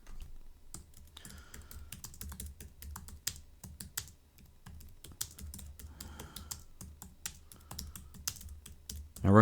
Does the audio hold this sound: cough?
no